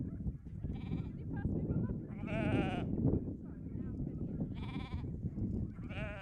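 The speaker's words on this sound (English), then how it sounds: "We're weaning our lambs from the ewes." Sheep bleat repeatedly, several loud wavering calls spaced a couple of seconds apart over a dense background murmur of a large flock of ewes and lambs during weaning in the Falklands.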